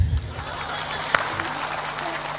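An audience at a spiritual gathering applauds, a steady wash of clapping with a sharp tap or clap standing out midway and faint voices underneath.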